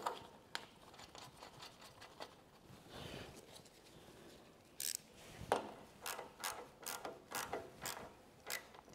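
Bolt being tightened back onto a Briggs & Stratton small engine, with faint, close metallic clicks and ratcheting taps in irregular short bursts against a quiet background.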